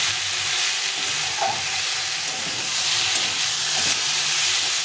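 Vegetarian squash curry fries in hot oil in a pan, giving a steady sizzling hiss with occasional scraping stirs.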